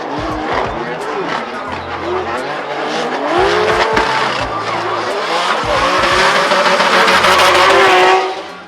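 Toyota Gazoo Racing North America 2022 GR86 drift car at Formula Drift Seattle, Evergreen Speedway: loud, continuous engine roar with tire squeal and skidding building steadily, then cutting off abruptly near the end, under a voice.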